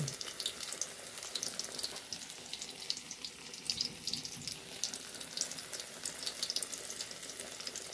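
Bananas frying in hot oil, a soft continuous bubbling sizzle with faint crackles, fairly quiet and steady, without any talking.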